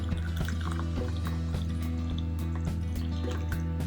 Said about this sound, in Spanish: colocamos en una tacita y le agregamos agua hirviendo.